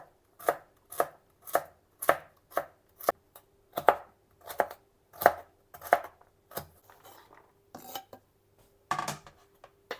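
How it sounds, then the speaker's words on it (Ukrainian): Knife chopping carrot into thin strips on a board for red Ukrainian borscht, a steady run of about a dozen crisp, close taps, then a pause and a final quick burst. "Ось такими смужками буду нарізати морку тоненько"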